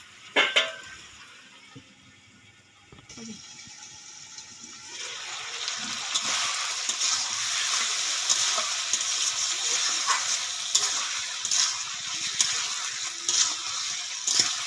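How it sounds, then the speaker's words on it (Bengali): Desi village chicken frying in a spiced pan, a steady broadband sizzle swelling after a quieter start, with intermittent scraping and stirring clinks of a utensil against the pan, close and alone without talk. "একটু কষিয়ে নেব"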